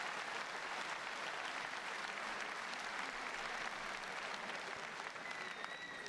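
Boxing crowd applauding during the Mariusz Wach vs Christian Hammer fight, a dense, continuous roar of clapping with a commentator's voice underneath.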